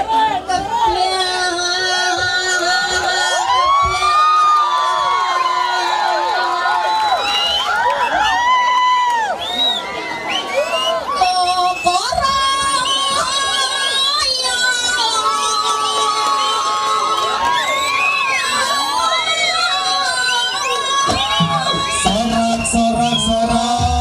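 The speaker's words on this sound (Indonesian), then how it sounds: "Sorak." Loud crowd cheering and shouting at a Jaranan performance in Blimbingsari, Banyuwangi, with many overlapping voices, whoops and children's yells sustained throughout, close and dense, over music.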